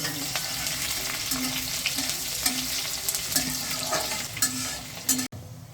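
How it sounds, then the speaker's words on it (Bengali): Onions frying in hot oil with bay leaves for a mutton curry, a steady close sizzle with occasional stirring scrapes in the pan, cut off sharply near the end. "এবার পেঁয়াজটা দিয়ে দিলাম পেঁয়াজটাকেও লাল করে"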